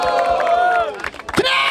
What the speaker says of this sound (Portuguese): Barulho para as rimas do Big Mike!